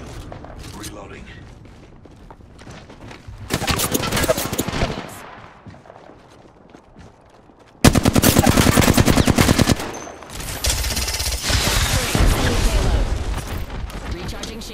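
Gunfire in the Apex Legends video game: several bursts of rapid automatic fire, loud and close, with short pauses and mechanical clatter between them, while a voice speaks briefly.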